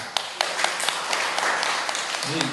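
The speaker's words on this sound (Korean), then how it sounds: "박수 한번 주세요." Audience clapping at a Sunday Buddhist temple service at Jeondeungsa on Ganghwa Island, a short burst of scattered hand claps with a few sharper claps standing out, and a voice starting briefly at the end.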